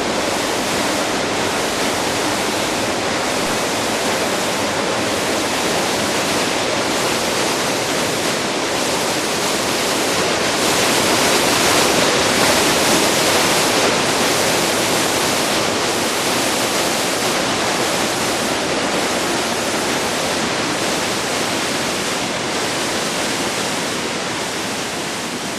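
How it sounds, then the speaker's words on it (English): The Calore river swirling and breaking against rocks in a gorge, a dense, steady, loud rush of foaming water that continues unbroken for the entire length. "see the vortex of the river that break against the rock, creating admirable displays of foam"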